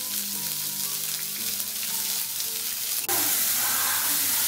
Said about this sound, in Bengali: পেঁয়াজটা একটুখানি নাড়াচাড়া করে নিয়েছি।